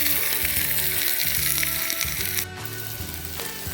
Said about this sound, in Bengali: তেল গরম হয়ে গেছে, এখন আমি পেঁয়াজ কুচি দিচ্ছি।